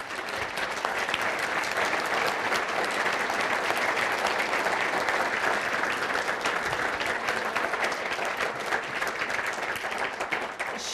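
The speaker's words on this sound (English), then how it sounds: "please again give a warm applause for Sherry Tolliver" Warm audience applause at a Martin Luther King, Jr. Breakfast for Sherry Tolliver, an actress: dense, continuous clapping from a sizable room, loud and even from start to finish, with no talking over it.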